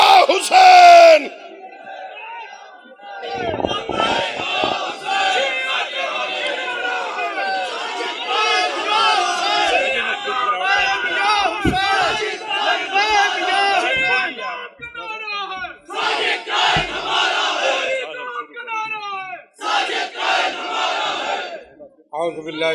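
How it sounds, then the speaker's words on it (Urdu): A large crowd at a Shia religious conference of scholars and reciters in Islamabad chants the slogan Labbaik ya Hussain. Loud, rhythmic collective shouts rise and fall in repeated bursts, with a leader's voice between them. "اپنے بازوؤں کو بلند کیجئے، نعرے کے ساتھ لبیک یا حسین"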